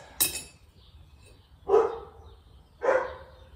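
In a blacksmith's workshop, a dog barks twice at a moderate distance, with a brief metallic clink just before the barks and quiet room noise between them.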